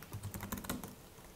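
A short run of computer keyboard keystrokes, several quick close clicks typed in a burst on a Raspberry Pi setup, with no talking.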